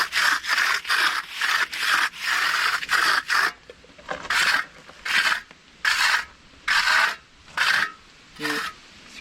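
A rubbing tool scrapes repeatedly across the surface of wet concrete stair steps in close, rhythmic rasping strokes, quick at first and then slower and more evenly spaced.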